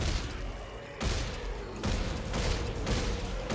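A player fires guns in the sci-fi horror video game Dead Space 3, heavy repeated bursts of shots in quick succession under dense game noise.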